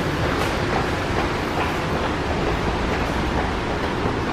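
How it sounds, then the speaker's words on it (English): Subway train at a station in Korea, a loud, steady rumbling roar of the train with broadband rail noise filling the whole stretch, no talk over it. "Is he going to get off the train or are we going to try to get on his train?"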